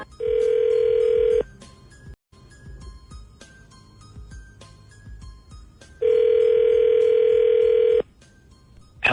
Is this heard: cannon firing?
no